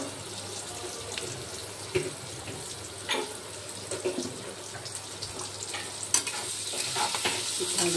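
Vegetables with Kashmiri chili fry and get stirred in a little oil, making a steady soft sizzle broken by scraping stirs and a few sharp clinks of the spoon, with no talking.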